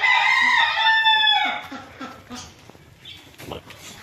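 A hen recovering from illness calls out in a drawn-out cry, followed by a few short clucks close by.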